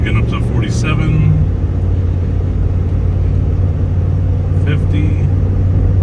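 A vehicle towing a trailer on a weight distribution hitch makes a loud, steady road rumble and engine drone while cruising, with brief voices over it.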